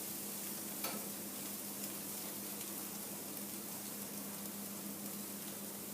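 Beef sizzles on a grill after being flipped, a steady close crackling hiss that runs unbroken, with one small pop early on.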